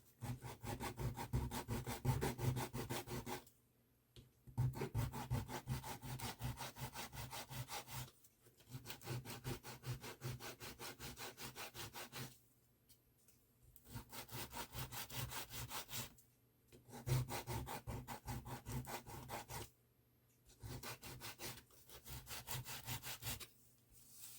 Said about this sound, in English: I'll just try rubbing that down a bit.